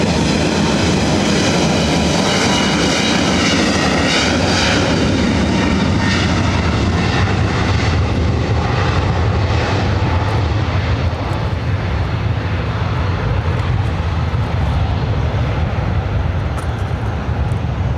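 A Delta airliner thunders down runway 24 right at LAX on its takeoff roll, a loud, continuous engine roar close by that holds steady throughout with no voices.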